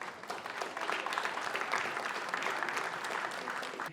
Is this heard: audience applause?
yes